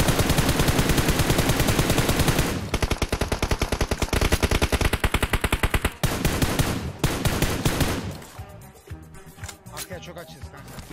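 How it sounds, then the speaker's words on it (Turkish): Rapid bursts of video game gunfire, loud and continuous at first, then more scattered shots with brief gaps and some background noise. "Silah sesi."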